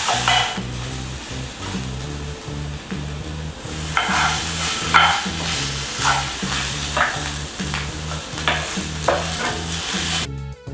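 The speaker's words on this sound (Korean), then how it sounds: "육류를 볶으실 때는 너무 센 불로 하지 마시고요, 중약불 정도로 해서 은근히 익혀주세요" Meat for homemade dog treats stir-frying in a lightly oiled pan over medium-low heat, with a steady close sizzle and repeated rhythmic scraping and stirring strokes throughout, no talking.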